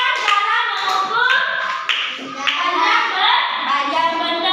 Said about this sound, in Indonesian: Tepuk tangan buat Asep